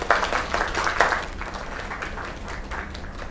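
An audience at a small gathering breaks into applause. The clapping is moderately loud and close, swells at the start and then settles into a thinner patter, with some voices faintly mixed in.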